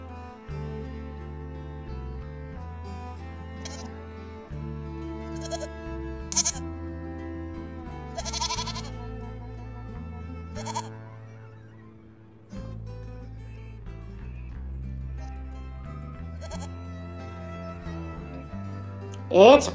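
A goat bleats in short wavering cries over a bouncy, steady musical backing, a singing voice carrying the tune throughout.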